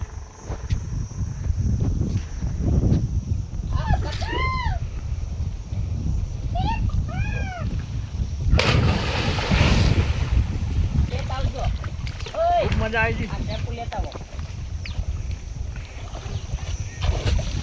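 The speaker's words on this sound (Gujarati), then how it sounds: "હાલો ધૂમકો મારે છે." A person dives into a village well and water splashes loudly, one big splash midway through a stretch of steady broadband water noise, with birdsong chirps and people talking around it.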